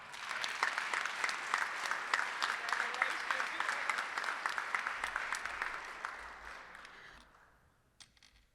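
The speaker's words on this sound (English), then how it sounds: "let's give Ms. Day one more round of applause" Audience applause for a teacher award recipient at a Rotary meeting, crisp steady clapping from a moderate crowd that gradually fades out toward the end.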